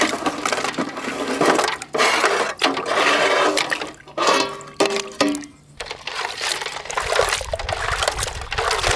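Water splashes and sloshes as a giant mud crab is washed by hand, with irregular bursts of pouring and trickling and short clatters between them, close and fairly loud, with no speech.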